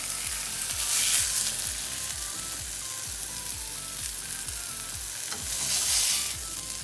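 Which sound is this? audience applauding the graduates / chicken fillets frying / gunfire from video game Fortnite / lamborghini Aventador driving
chicken fillets frying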